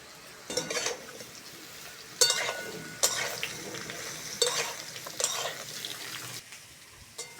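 Potato and ridge gourd fry in a pan, bursts of sizzling hiss with repeated spatula stirring scrapes and clatter, close and intermittent over a quieter frying bed.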